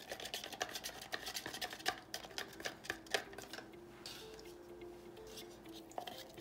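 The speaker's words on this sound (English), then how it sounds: "Give that a stir." A stick stirs acrylic pouring paint mixed with dish soap in a cup, quiet rapid taps and clinks against the container, then a softer swishing swirl.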